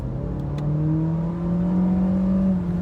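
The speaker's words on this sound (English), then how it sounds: "I don't like hearing the inline 4 that I'm driving" Cabin drone of the inline-four engine inside a 2020 Honda HR-V Sport, a buzzy tone rising steadily as the car accelerates. It stays loud, close and alone, with no talking.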